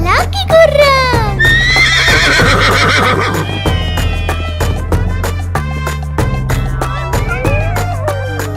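Loud, bright horse neighs and a steady clip-clop of hooves repeat through a Telugu children's rhyme, mixed with singing and music.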